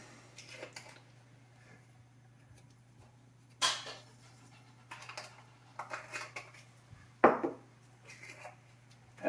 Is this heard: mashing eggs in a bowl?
yes